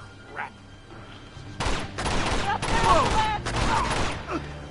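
Several loud gunshot bursts in the action game Uncharted 2: Among Thieves, a rapid cluster of close reports over roughly three seconds following a quieter stretch with faint game sounds.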